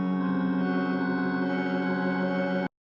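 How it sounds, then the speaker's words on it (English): Sustained organ-like synth chord with rich stacked harmonics, held steady for under three seconds then cut off abruptly, played alone without any voice. "There's too much release on this organ and I want it to sound like this."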